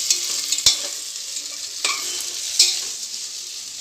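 Vegetable paneer fried rice is stirred in a frying pan, with a steady high sizzle and three sharp spatula scrapes spaced through it, close and fairly loud, no voices.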